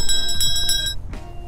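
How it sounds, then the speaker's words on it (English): A bright, metallic bell rings in rapid repeated strikes, loud and close, then fades out with a faint extra ring near the end. "Jake, Gotta ring that bell."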